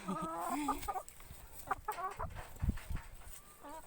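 Chickens cluck repeatedly and close by, a series of short, bursty fowl calls with brief gaps between them.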